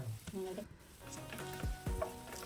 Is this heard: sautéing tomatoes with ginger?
yes